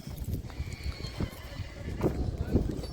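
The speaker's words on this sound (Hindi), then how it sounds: "सामने एक घोड़ी है।" A Kathiawari mare from Gujarat at a horse gathering in the Kutch desert neighs while her hooves clop, heard close amid busy background chatter and crowd noise.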